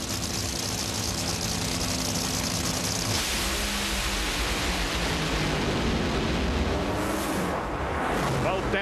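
Top fuel dragsters at the 2011 US Nationals thunder down the drag strip, a dense, roaring wall of engine noise that stays loud throughout and shifts in tone partway through.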